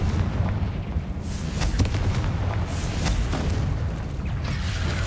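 A Confringo fire spell bursts in Hogwarts Legacy on PS5, amid a dense, continuous roar of booming blasts and rumbling impacts in the game's combat, loud and sustained throughout.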